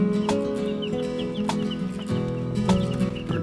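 Chickens cluck and chirp close by in a brooder, with short repeated calls over a steady hum.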